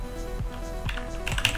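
Rapid keyboard key presses from crouch spamming while playing Celeste, a quick run of clacky taps close to the mic with faint game sounds behind.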